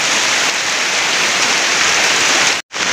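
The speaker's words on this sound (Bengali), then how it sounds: "আপনারা দেখতেই পারছো কীরকম বৃষ্টি দেয়।" Heavy rain falls in Hailakandi, Assam, a loud, even, close roar of drops that continues unbroken apart from a momentary cut near the end, with no one speaking.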